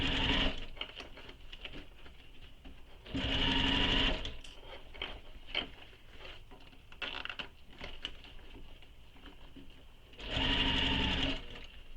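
A sewing machine back-stitches along a bag panel, its needle chattering in rapid bursts of a few seconds at a time, with quieter gaps between runs, close and clear.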